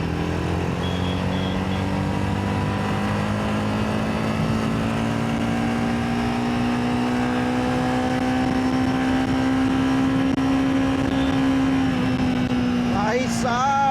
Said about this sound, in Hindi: एक बार इसका आपको साउंड सुनाता हूँ, सुनाऊँ? अभी देखो मैं 3rd गियर में हूँ और थोड़ा सा स्पीड बढ़ा कर देखते हैं।